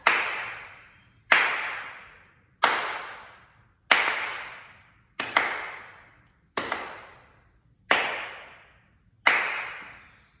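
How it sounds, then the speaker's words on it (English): Sharp hand claps in an over-50s exercise class, eight single claps at an even pace of about one every 1.3 seconds, close and crisp, each with a short decaying ring, no talking. "2 hands. 1 hand. 1 clap. 2 claps."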